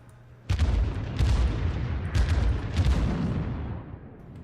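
Incoming naval shell fire in World of Warships aimed at the cruiser USS Pensacola, a sudden loud boom followed by rolling heavy rumble and further muffled impacts that slowly fade, close and with no talk.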